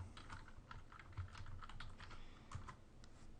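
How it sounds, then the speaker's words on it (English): Quick, uneven keystrokes clatter on a computer keyboard in a quiet room, close and fairly soft, with no voices. "we're going to type in social bookmarking"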